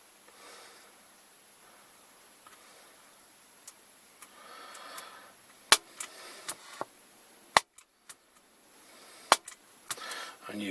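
Soft-touch record and stop buttons on a cassette deck give sharp isolated clicks, several scattered taps standing out over a faint background hiss.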